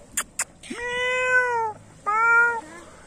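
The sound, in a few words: cat meowing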